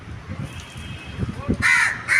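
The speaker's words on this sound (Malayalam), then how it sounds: "കുറേ കാക്കലുണ്ട് കേട്ടോ" Crows caw in two loud, close bursts near the end, over a light drizzle of rain, with faint voices talking earlier.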